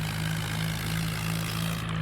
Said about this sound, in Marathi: तरी ट्रॅक्टर बघा कसा पळतोय.